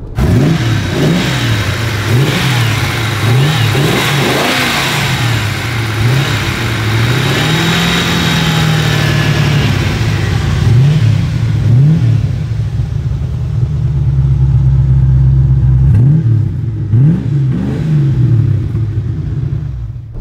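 A 1969 Maserati Ghibli 4.7 V8 engine, 315 hp, rumbles loudly and revs repeatedly, rising and falling in pitch over a steady idle, close by and without talk.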